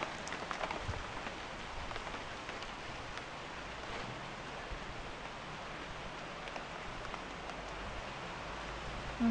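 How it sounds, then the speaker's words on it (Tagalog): Heavy rain falls steadily near a fish pond, a dense, even hiss of drops on surfaces that stays constant throughout with no voices. "Ayan, lumakas na po yung ulan."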